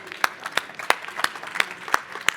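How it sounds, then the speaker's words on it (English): Audience applause follows a conference talk on citizen data in a hall, with a steady patter of many hands and regular sharper claps standing out, moderately loud and continuous. "I think they deserve a big applause"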